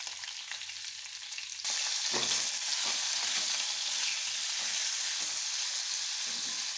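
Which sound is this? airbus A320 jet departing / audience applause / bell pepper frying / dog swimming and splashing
bell pepper frying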